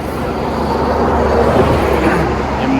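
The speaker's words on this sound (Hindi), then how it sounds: "ये रहा पीछे ट्रैफिक" Road traffic passing behind Narmada ghat by the river: a steady, loud broadband rumble of cars, buses and engines with no breaks.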